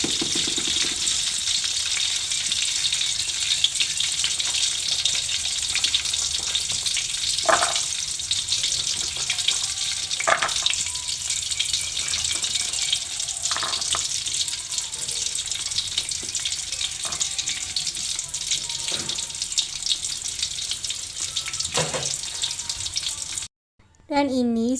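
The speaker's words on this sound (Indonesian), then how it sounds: "ini telur dan tempenya aku goreng sebentar" Quail eggs and tempeh fry in hot oil, giving a steady, close crackling sizzle throughout, with a few faint knocks and a brief break near the end.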